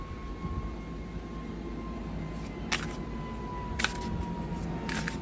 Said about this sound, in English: let that extremely loud airplane just pass on by